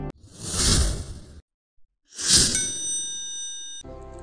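A notification sound effect opens with two airy whooshes, then a bright bell ding that rings and slowly decays, ending with a brief metallic clang.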